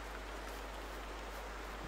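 Steady rain falls in the hunting game theHunter, a dense, even hiss of drops spread across the whole clip with no breaks, fairly loud and continuous with no voices over it.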